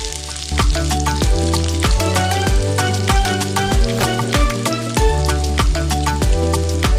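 Finely chopped onion tossed into hot oil in a frying pan for a dhaba-style chicken handi, giving a loud, steady, crackling sizzle that runs on without pause.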